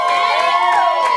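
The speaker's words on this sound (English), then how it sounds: "Okay, crowd. I'm turning to you now. Cheer loudest for whoever you think won." An indoor crowd at a sports quiz show cheers loudly in a brief burst of overlapping shouts and high-pitched voices, close and sustained.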